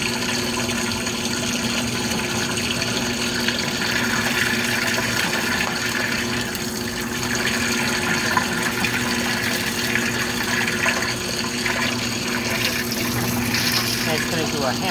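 Speed Queen laundromat washer filling with water at the start of a hand wash cycle: a steady rushing flow with a pump-like hum, continuous and fairly loud, with people talking in the background.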